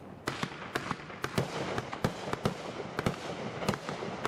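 Fireworks going off at a July 4th show: a rapid, irregular string of sharp bangs and crackles, roughly a dozen distinct reports over a steady background of crackling.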